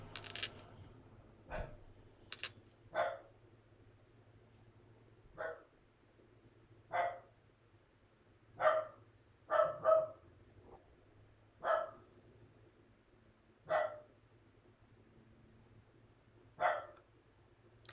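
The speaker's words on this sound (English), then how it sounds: "Sorry about the dog barking." A dog barks in the distance, single barks spaced every second or two, faint against a quiet room with a low hum.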